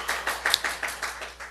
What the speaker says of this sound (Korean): 우리 하나님께 박수 올려드려요